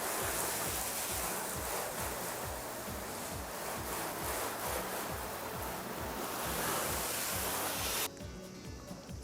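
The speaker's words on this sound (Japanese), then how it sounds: "洗い流します。" Water from a straight nozzle rinses iron-particle remover cleaner off a car's paintwork, a loud continuous rushing spray with pulsing surges that cuts off abruptly near the end.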